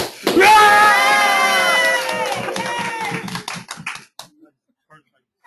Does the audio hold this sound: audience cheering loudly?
yes